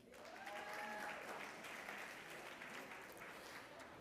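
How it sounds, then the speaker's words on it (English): A crowd applauds at a university student leadership awards ceremony, a steady, even wash of clapping from many hands that holds for several seconds, heard at a distance and fairly quiet. "a round of applause for all of you"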